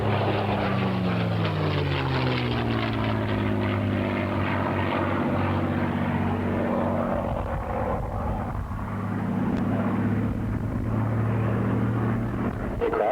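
Propeller-driven military aircraft rolling in on a simulated ground attack pass at a 1983 RAAF Point Cook air show, a loud, steady engine drone with shifting pitch throughout, sounding close and continuous.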